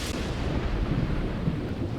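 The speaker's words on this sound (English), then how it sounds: "the lightning keeps coming so close to my chickens" Thunder from a lightning storm in The Sims 4 rolls as a low, rumbling boom that starts sharply and then sustains as a heavy, continuous grumble, fairly loud, with no talking.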